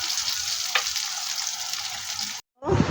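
Teasel gourd and pointed gourd bhaji fry in a pan with almost no oil, giving a steady close sizzle that cuts out briefly near the end before returning.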